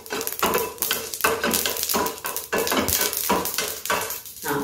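Mustard seeds and urad dal frying in hot oil for a coconut chutney tempering, a steady sizzle crossed by regular scraping strokes of a spoon in the pan, close and fairly loud, with no voices.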